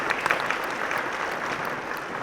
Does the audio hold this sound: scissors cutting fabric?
no